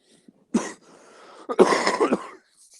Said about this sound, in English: I've just woke up, bad cough.